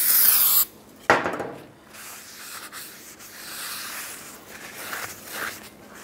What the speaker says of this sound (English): Take the rotor, use a little brake parts cleaner, and use a rag and wipe it down.